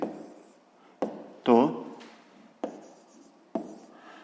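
Pen writing on paper for a sixth-grade math exercise, several short bursts of scratching strokes separated by pauses, close and fairly clear, with a voice heard in the middle.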